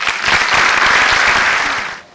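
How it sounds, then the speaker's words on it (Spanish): A crowd of educators applauds to welcome a priest, vicar general of the diocese of Villa María, in a burst of dense, loud clapping that fades out near the end. "lo reciben con un aplauso"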